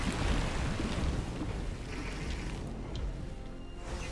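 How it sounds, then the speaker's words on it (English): Rushing water surging back during a Fortnite live game event, a steady broad roar like surf and wind that stays loud throughout and eases slightly toward the end, with no voices over it. "Oh, I hear the water! The water's coming back!"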